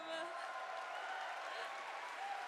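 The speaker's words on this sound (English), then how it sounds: "Audience members clap" Audience members clap throughout at a live event, a steady, dense wash of applause at moderate distance with no break, and a faint tone running underneath.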